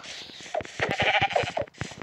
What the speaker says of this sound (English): Go get some sheep wool.